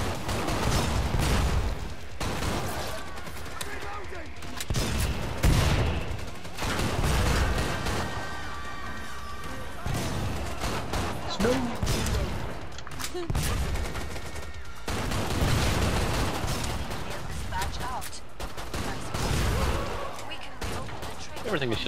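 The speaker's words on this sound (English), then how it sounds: "Everything is just exploding." Chaotic explosions and heavy gunfire from the video game Killing Floor 2, set at a snowy base: dense, loud bursts and blasts roll on almost continuously, with voices talking over the din.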